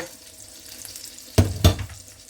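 Chopped onion and carrot drop into melted fat in a frying pan, giving a soft sizzle and then two sharp bursts of frying noise as they land, heard up close with no talking.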